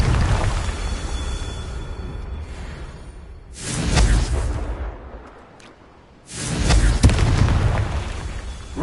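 A Confringo fire spell in Hogwarts Legacy goes off as two loud, booming bursts a few seconds apart, each with a whooshing rush and a long fading rumble.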